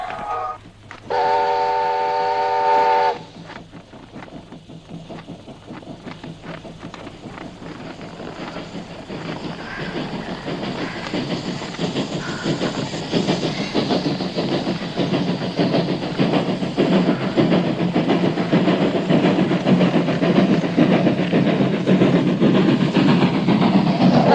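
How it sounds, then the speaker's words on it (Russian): A steam train pulls in with a loud whistle blast near the start, followed by steady, building clickety-clack of the wheels and a hiss of steam as it rolls closer. "Мама, поезд идет! Поезд идет!"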